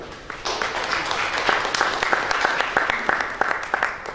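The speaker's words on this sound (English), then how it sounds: "So big round of applause for all our speakers for this session." Audience applause for panel speakers at an energy storage conference session in India, a steady burst of many hands clapping with sharp individual claps standing out, fairly close and filling the whole stretch.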